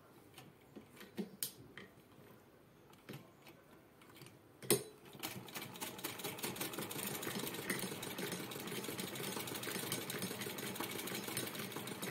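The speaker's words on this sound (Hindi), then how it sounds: "ये इसी तरह मैं इस साइड भी सिलाई लगाऊंगी" A sewing machine runs steadily, stitching along the side of a small fabric pouch made from old cloth; a few clicks come first, then continuous close whirring, with no talk.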